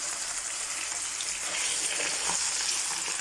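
Chicken pieces frying in a pan of browned onions, a continuous soft, bright sizzle and crackle that swells slightly midway, with no voices.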